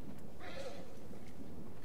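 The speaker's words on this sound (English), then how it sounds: "Be quiet, horses." Horses whinny and neigh inside The Last of Us Part II, a drawn-out call swelling and fading at mid distance over muffled clip-clopping hooves, with no talking.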